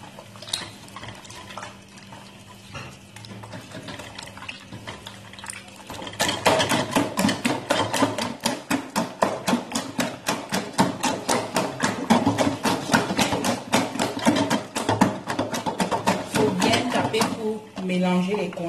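Seasoned condiments for Bamiléké nkui are pounded with fast, regular, close thuds that start after a quieter opening and continue steadily to the end.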